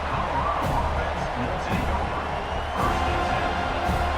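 A large stadium crowd at a football game roars in a steady, dense wash of cheering, with a commentator's voice faintly over it.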